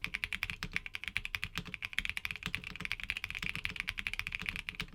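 Rapid, close-up clacking of smooth mechanical keyboard switches, a dense rhythm of individual keystrokes with no voices.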